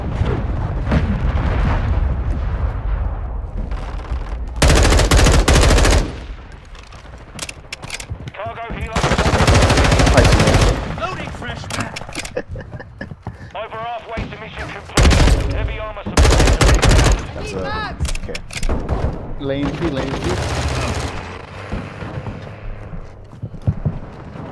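Automatic rifle fire in the Modern Warfare II beta on PC, a 20v20 Invasion match on Sarrif Bay with a KD M4, loud bursts crackling repeatedly through a dense battle of steady shooting, with a player talking between volleys.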